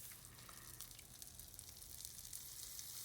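Salmon fries with garlic and red onion in a pan, giving a faint, steady sizzle and crackle with no talking.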